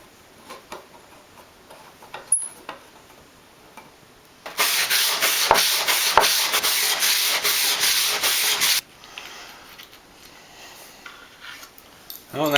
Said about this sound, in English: I've gone through and sanded kind of the front and the back mostly smooth